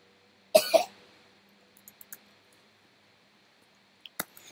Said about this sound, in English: At least cover your mouth when you cough.